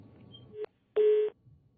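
A telephone busy signal sounds after a Skype call drops: two steady electronic beeps, the second longer and louder, with a quiet gap between and a faint murmur of room noise around them.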